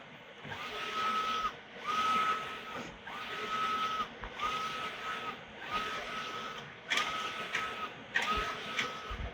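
A Mimaki UCJV300-160 UV LED printer/cutter printing in bi-directional mode gives a steady carriage whir with a repeating electronic tone on each pass, roughly every second, fairly quiet and close.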